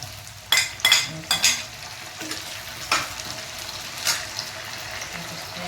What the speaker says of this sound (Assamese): কাটি থোৱা বিলাহীখিনি দি দিম